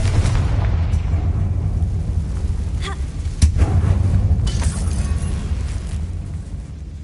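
A Confringo fire-blast spell bursting in the video game Hogwarts Legacy inside an abandoned mine, a loud low rumbling blast with crackling debris that swells around the middle and slowly rolls away.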